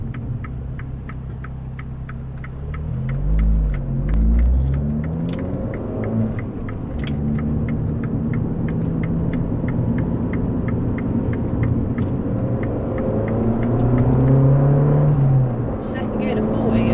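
Abarth hatchback accelerating through second gear on a dual carriageway, a steady engine drone rising in pitch from inside the cabin, with an indicator ticking rhythmically throughout.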